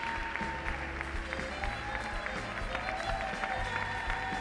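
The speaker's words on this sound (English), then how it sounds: "The judges applauding their performance." Faint, distant applause from judges at an adult standard ballroom dancing championship, scattered and light beneath steady music and hall ambience.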